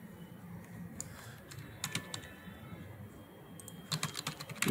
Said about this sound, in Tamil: இப்போ நான் தமிழ் ஃபாண்ட் லதாலே டைப் பண்ணுறேன்